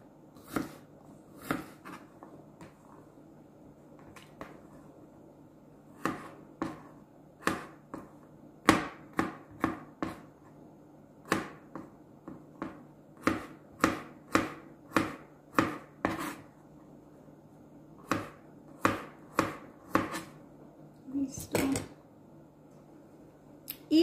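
Knife chopping cucumber into small pieces on a board for a Lebanese cucumber and yogurt salad: a series of sharp, close, irregular chops with short pauses between bursts, no talk.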